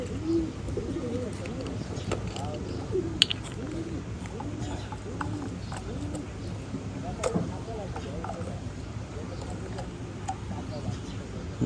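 Pet pigeons coo continuously in overlapping low rolling calls throughout, with scattered clicks and a person talking over them.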